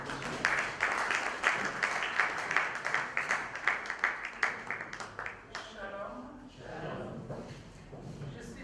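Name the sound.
audience applause and cheering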